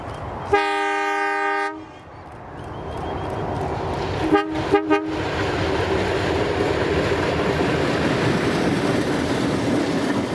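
A train horn blasts once, long and loud, then two short toots, followed by the steady rising roar and clatter of the train passing close by, filling the rest of the scene.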